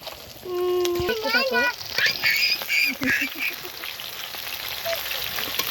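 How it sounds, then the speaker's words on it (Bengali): Fish frying in a wok keeps up a continuous sizzling hiss close by in a home kitchen for a Bengali rui fish curry with potato and eggplant, while voices talk over it. "দাঁড়া একটু ওয়েট করো, মাছগুলো ভাজতে দাও, তারপরে খাবে।"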